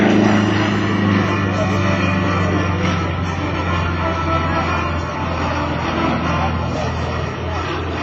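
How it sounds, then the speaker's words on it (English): Pitts Model 12 aerobatic airplane snap-rolling repeatedly at the top of a loop at an airshow, a steady loud engine drone heard from a distance under a continuous announcer's voice. "On top of the loop, he snaps the airplane 3 times around, 4 times around."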